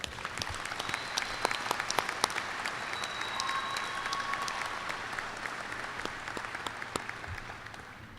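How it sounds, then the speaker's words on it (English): A crowd at a 2020 high school graduation ceremony claps for the graduates' family and friends, producing dense, sustained applause that stays fairly even in loudness and fades slightly at the end. "Let's give your family and friends a round of applause to thank them for all they have done"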